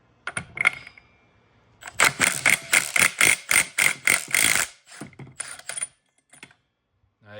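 An impact-style power tool zipping off the clutch nut of a Yamaha Banshee ATV, heard as a close, loud burst of rapid metallic hammering lasting a few seconds, followed by a few lighter clicks.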